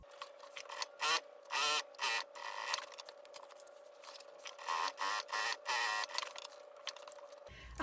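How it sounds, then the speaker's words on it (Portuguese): A sewing machine stitches printed fabric to synthetic material, making a crossbody bag. The motor whirs in short, even bursts with brief pauses between them, close and fairly quiet. "vou costurar e depois fazer o pesponto"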